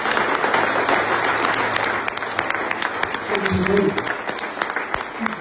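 Applause rises from a church congregation during a prophet's sermon, a steady spread of clapping that carries throughout, with a voice speaking over it.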